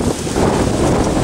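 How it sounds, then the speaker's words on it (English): Strong wind gusting into an approaching thunderstorm in Greene County, Alabama, a loud, broadband roar buffeting the microphone, steady with a slight surge partway through. "This is wind blowing back into the storm."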